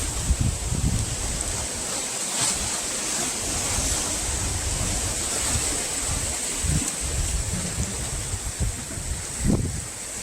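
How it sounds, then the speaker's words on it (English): Ocean surf washing in over and through rocks on Mystic Beach, a west-coast Vancouver Island shore, a steady broadband rush with wind buffeting the microphone and occasional louder swells. "you can hear the waves come in, the tide come in on the rocks, through the rocks"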